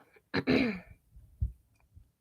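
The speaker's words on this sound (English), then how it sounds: "Sorry if I like keep clearing my throat." A single harsh throat clear, loud and close, followed by a softer short grunt and quiet room noise.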